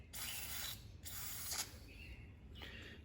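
Bursts of water spray from a CanPump 1900 PSI, 220V, 3.0 HP electric pressure washer, loud hissing blasts starting and stopping three times in close succession with no talking.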